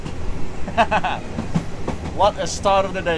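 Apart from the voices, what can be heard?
night train rolling on rails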